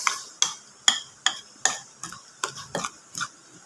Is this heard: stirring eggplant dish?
yes